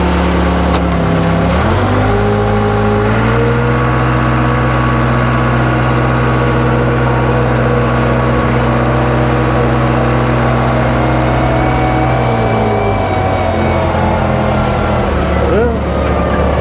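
A Case 580C tractor's diesel engine drones loudly and steadily up close as the machine is driven. The pitch climbs after a gear change, holds, then falls near the end.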